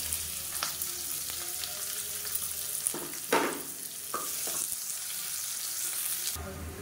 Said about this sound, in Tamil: நீளமாக நறுக்குன பெரிய வெங்காயம் சேர்த்துக்கலாம்.